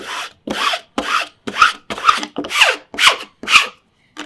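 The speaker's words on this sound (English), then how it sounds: "And then I'd like to go ahead and burnish it again" A tool rubbed firmly across a canvas to burnish a ScanNCut cut stencil, nine rhythmic scraping strokes about half a second apart, close and loud, with no talking.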